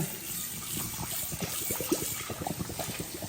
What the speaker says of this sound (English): a little cool water running. Dump the pasta in.